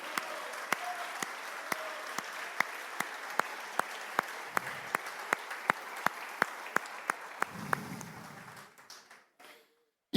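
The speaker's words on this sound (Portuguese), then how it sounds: "Aplaude a Jesus." A church congregation claps in a fast, even rhythm, sharp regular beats over a broad wash of applause that fades out toward the end, with a faint voice underneath.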